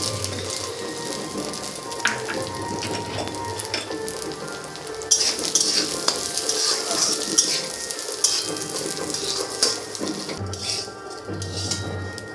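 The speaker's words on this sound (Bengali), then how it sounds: "এবার চালটাকে ভেজে নেব।" Rice sizzles and fries in ghee in a pan, a loud, steady crackling hiss with occasional stirring scrapes, no voices.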